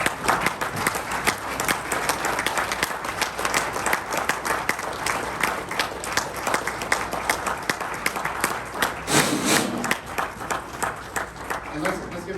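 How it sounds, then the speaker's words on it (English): Club meeting audience giving a sustained round of applause, dense continuous clapping throughout at moderate volume, with some voices mixed in. "So everybody, one more round of applause for Joaquin."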